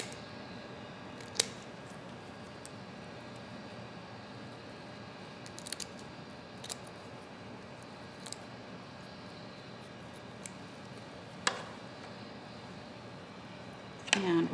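Scissors snipping fish flesh during a bony fish dissection, a few sharp, sparse cuts spaced several seconds apart over a quiet background.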